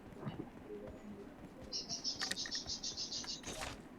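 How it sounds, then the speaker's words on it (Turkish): Birds chirp in PUBG Mobile, with a bright, rapid run of repeated high calls midway through and a few softer calls over faint ambient game noise. "kuş mu var lan orada?"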